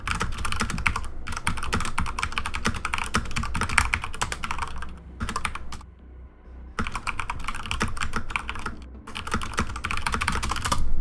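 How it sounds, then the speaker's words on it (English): Rapid clattering keystrokes on a loud computer keyboard while typing into a chat, in dense bursts broken by short pauses, close and prominent. "You get to hear my loud keyboard as I type into the chat"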